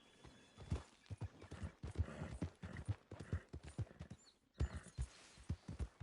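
Horse hooves clip-clop in a video game, a steady walking rhythm of sharp, close hoofbeats that pauses briefly before resuming, with no voices.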